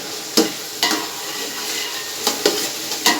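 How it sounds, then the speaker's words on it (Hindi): Fresh green chickpeas fry in a pot with a steady, soft sizzle, and every so often a spoon scrapes and stirs them in short clattering bursts. There is no talking. "इनको हम थोड़ा सा फ्राई करेंगे।"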